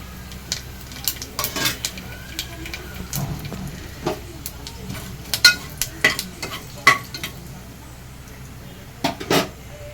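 Cinnamon, fennel seeds, bay leaf and a clove frying in hot oil in a pressure cooker: a low sizzle under sharp metal clinks and scrapes of stirring, close by.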